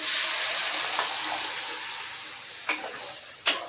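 Onions sauté in a pan for a South Indian keerai kadaiyal greens dish, with a constant loud sizzling hiss, broken by a couple of soft clinks near the end.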